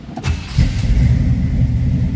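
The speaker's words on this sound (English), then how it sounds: "let's fire this up and show you the gauges" A 1972 Chevrolet Camaro SS V8 cranks briefly and catches, settling straight into a loud, steady rumbling idle close by, with no talking.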